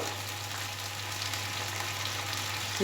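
Ginger paste, green chili and ground spices such as turmeric and cumin powder sizzle steadily in a pan, a close, even frying hiss that holds without a break over a low hum.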